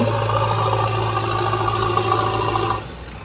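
A JCB excavator works at a brick kiln, its engine holding a steady mid-pitched chugging hum at close range before cutting off abruptly near the end.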